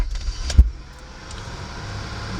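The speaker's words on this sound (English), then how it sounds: "Okay, I'm gonna start the car now." A 1999 Acura TL 3.2 with a bad idle air control valve cranks and catches with a sharp thump, then settles into a steady, high-pitched idle that hums on evenly, heard close by.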